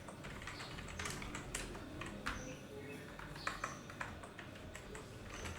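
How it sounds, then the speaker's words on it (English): Keys tapped on a computer keyboard while typing headings into a Word document, a quiet, uneven run of soft clicks over faint background noise. "Now I need to type here the headings."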